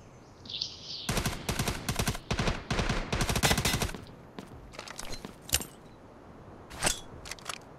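Rapid automatic gunfire in the mobile shooter Delta Force Mobile comes in several dense bursts, followed by scattered single shots and sparse cracks, fairly close and loud, with no talk.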